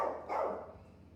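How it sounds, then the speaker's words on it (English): A dog gives a single short bark, then a second quick bark right after it, close by and fairly clear in a brief moment with no talking. "That dog's always barking."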